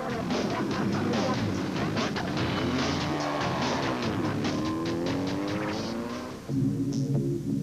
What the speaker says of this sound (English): the BP Ultimate Polo of Fekken and Aries was the first car to leave Cape Town en route to the stages.